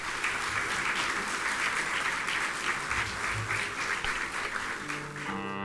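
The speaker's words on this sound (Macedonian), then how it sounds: "Еден силен аплауз за нив" Audience applause for a singing trio at a formal anniversary celebration of the Faculty of Civil Engineering in Skopje, a dense, steady crowd clapping that fills the hall for several seconds before fading as music begins.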